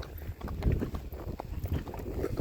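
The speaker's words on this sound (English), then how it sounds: "So wind just picked up a little bit" Gusty wind buffets the microphone outdoors near a horse fitted with an old Hereford saddle, producing a low, rumbling roar that rises and falls. A few soft knocks sound underneath.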